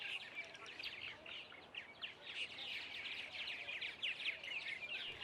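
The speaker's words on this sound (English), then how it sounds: "now we have the largest martin colony in Travis County" Purple martins chirp and call steadily at a large nesting colony in a Travis County neighborhood, a dense, busy chatter of many birds at moderate distance with no one talking.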